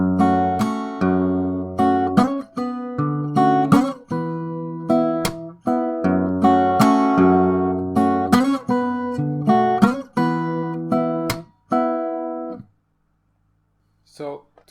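Solo acoustic guitar plays bars 83 to 86 of a fingerstyle arrangement of a song from Naruto Shippuden, repeating an octave phrase several times with crisp plucks and ringing chords, then stops, leaving near silence and a brief faint sound.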